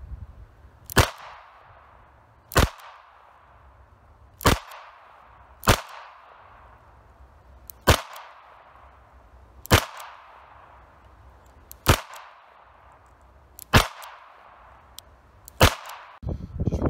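Nine sharp gunshots from an H&R 929 revolver fired double action at a target, evenly spaced about two seconds apart, each crack loud and ringing out against a quiet outdoor background.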